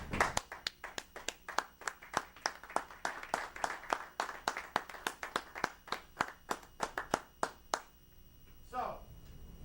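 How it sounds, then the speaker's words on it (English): Audience applause during a spoken sermon-style talk: a crowd claps in sharp, fairly steady rhythmic bursts for about eight seconds, then the clapping stops and a brief voice is heard. "those claps are not for me"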